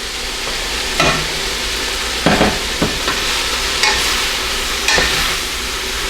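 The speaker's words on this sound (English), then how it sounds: "I'm going to go ahead and add my cabbage and give it a toss in the oil" Cabbage tossed in hot oil in a large pan alongside softened onions, a loud, dense sizzle broken by several scraping and rustling bursts as the pan contents are turned.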